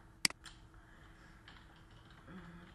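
A few faint, sparse keystrokes on a computer keyboard while an email address is typed, with a single sharper click near the start in an otherwise quiet room.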